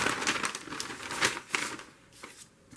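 Paper crinkles and rustles close by as a sheet is handled and glued into a journal, with irregular soft crackling bursts and no talk.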